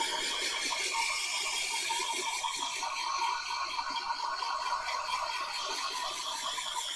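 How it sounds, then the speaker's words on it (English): Hairdryer blowing continuously to dry paint on a Warhammer miniature, a steady close airy roar with a faint mechanical rattle throughout and no talking. "Hairdryer time."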